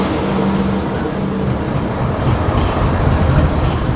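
A train hauled over a ghat section with a banker locomotive attached rumbles past close by, giving a steady, loud, broadband roar of wheels and wagons with no talk.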